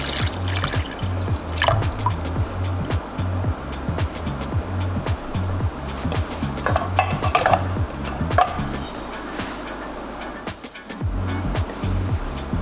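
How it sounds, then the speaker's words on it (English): Water trickles and splashes as 400 cc is poured into a pot of seared salmon for Japanese miso soup, a steady close pour with some clinking and kitchen handling noises. "Add water 400 cc."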